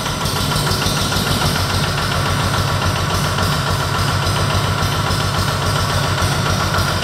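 A four-wheel crane truck with a rotating basket idles with its hydraulic system running, a steady loud rumbling engine drone with a rhythmic knocking pulse, continuous and close throughout.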